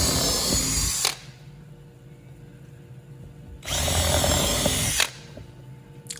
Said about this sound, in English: So drilling in the pilot holes here.